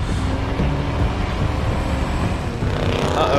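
A car drives in the video game Tales from the Borderlands, a loud continuous engine rumble and road roar that holds steady as it approaches, with no voices over it.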